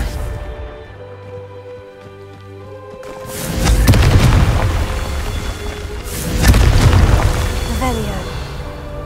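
Two booming fire-spell explosions from the Hogwarts Legacy video game, each a deep blast with a rolling rumble that fades slowly, following a quieter stretch of ambient tones.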